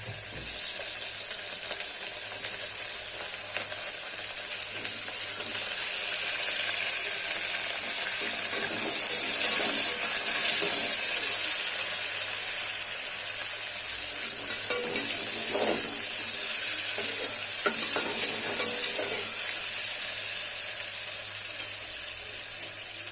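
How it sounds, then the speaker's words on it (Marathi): Onion and tomato sizzle steadily in a pan for a long, even stretch, with faint stirring scrapes underneath and no voices. "कांदा टोमॅटो भाजत आलाय बघा."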